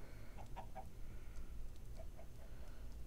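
Chickens in a farming video game give soft, quick clucks in two small clusters. The clucks are faint and sit over a low background hum.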